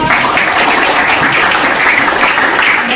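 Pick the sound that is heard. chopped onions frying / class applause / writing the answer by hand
class applause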